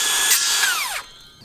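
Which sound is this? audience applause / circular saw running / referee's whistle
circular saw running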